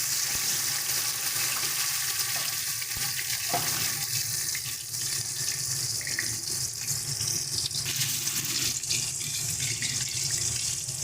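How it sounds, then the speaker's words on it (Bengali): Marinated paneer pieces fry in hot oil, a dense, constant sizzling hiss heard up close for several seconds with faint occasional utensil sounds and no talking. "এবার আমরা পনিরগুলোকে ভেজে নিচ্ছি।"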